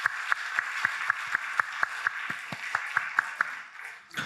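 A small church congregation claps at a steady, fairly quick rhythm, each clap distinct and moderately near, fading out near the end.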